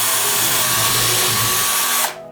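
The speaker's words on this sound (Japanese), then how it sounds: "はい、じゃあ最後この 2x4 剤に穴を開けます。" A KIMO 20V cordless drill driver (QM-13809S-T-20) bores into 2x4 lumber at low speed, a loud continuous whine and grind close to the mic that stops abruptly near the end.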